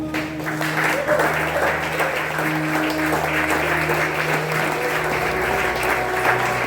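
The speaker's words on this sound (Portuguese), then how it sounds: "Vamos aplaudir o Senhor porque Ele é digno." A church congregation claps together during an Easter worship service, a continuous wash of applause layered over sustained organ or keyboard tones and a low voice underneath.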